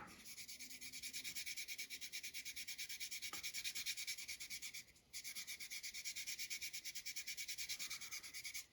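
Higher-grit sandpaper rubs paint on the roof of a model car with a steady rhythm of quick, soft, scratchy strokes. The strokes stop briefly midway, then resume.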